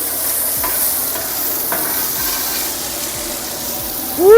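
Onions sizzle steadily on a Blackstone griddle, a constant bright frying hiss with faint scrapes of a utensil and a clatter at the very end.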